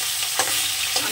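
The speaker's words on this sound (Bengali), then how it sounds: "আমার মাছের মাথাটা ভাজা হয়ে গেছে" A fish head fries in hot oil in a pan, a loud continuous sizzle with two brief scraping stirs, heard up close.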